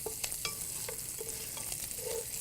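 Bacon crisping in a pan as its fat renders out, a soft continuous sizzle with small crackles and pops scattered through it, faint and steady with no voices.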